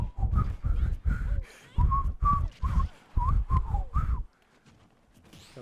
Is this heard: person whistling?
yes